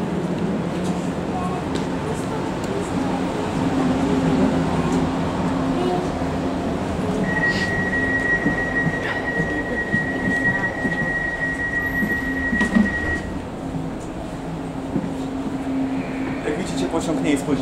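Steady interior rumble of a moving open-plan passenger train, with continuous wheel and track noise, a faint high whine for several seconds and occasional light clicks, no voices heard.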